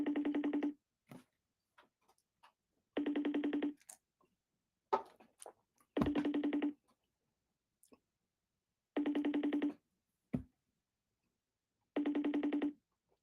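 A phone line rings back during an outgoing call, sounding five evenly spaced ringback tones about three seconds apart, with quiet clicks and small knocks in the pauses.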